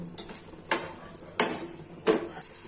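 A spoon or spatula stirring a carrot and jaggery filling as it fries in a pan, making four separate scraping clanks spaced roughly evenly over a low background hiss, close and moderately quiet.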